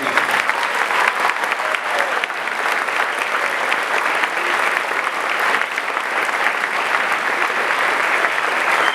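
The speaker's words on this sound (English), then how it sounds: "give them a lusty round of applause" Students at a college achievement day give their parents loud, sustained applause, a thick, steady roar of many hands clapping at once in a large hall, holding full strength for about nine seconds.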